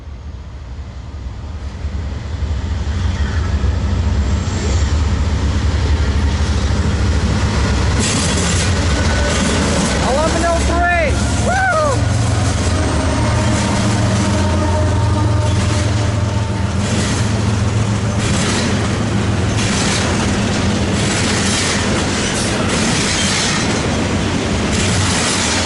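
A Norfolk Southern locomotive leading an eastbound train rumbles past at close range, a steady loud roll of engine and wheels with brief squealing wheel tones midway and rhythmic rail clatter throughout.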